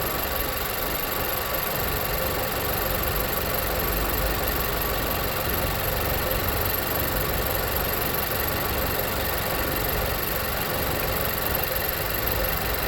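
Nissan Juke engine idling steadily with a constant low rumble and broadband hum, no voices, running unchanged throughout.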